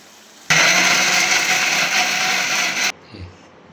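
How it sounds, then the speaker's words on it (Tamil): A kitchen mixer grinder whirs loudly and steadily for over two seconds grinding sautéed paneer butter masala ingredients, then cuts off abruptly, leaving a faint clunk as it settles. "அரைக்க போகிறோம் நம்ம மிக்சர் கிரைண்டரில்"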